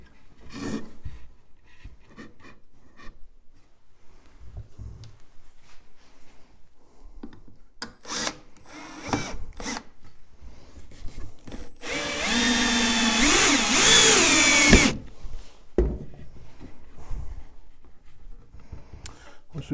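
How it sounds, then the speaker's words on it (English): A power drill drives a screw into the wood of a Layens beehive, one steady high whine lasting a few seconds after scattered handling clicks and knocks nearby. "we're going to go ahead and get our first screw in here"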